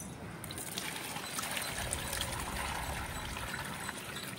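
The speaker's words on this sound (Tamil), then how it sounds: "செடிக்கு எல்லாத்துக்கும் தண்ணி ஊத்துட்டாரு" Water poured over potted plants in a terrace garden, a steady continuous splashing trickle that runs without break, close by and moderately loud with no talking.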